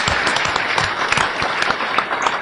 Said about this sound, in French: Voilà, et on peut l'applaudir.